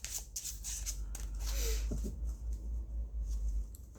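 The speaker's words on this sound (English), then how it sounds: "Such a good shuffle." A deck of cardstock oracle cards being shuffled close up, soft riffling and rubbing strokes with a few crisp snaps, fairly quiet over a low background hum.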